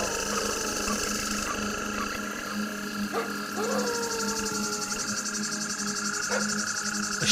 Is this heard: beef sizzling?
no